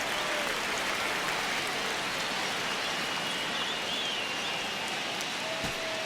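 Baseball stadium crowd during the ninth inning of a one-run Detroit Tigers versus Miami Marlins game, a dense continuous roar of murmuring spectators and scattered applause filling the space from start to finish, no announcer heard.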